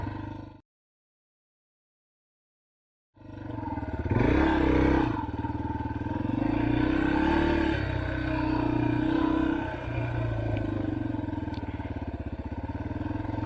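Off-road motorcycle engine on a dirt trail, a steady close drone that rises and falls with revving and some clatter, heard alone after a short silent gap.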